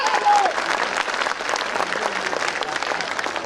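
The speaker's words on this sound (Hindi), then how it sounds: "एक बार जोरदार तालियां" Dense, continuous clapping from a large crowd at a school annual function poetry recital (kavi sammelan) fills the whole stretch, loud and steady without pause.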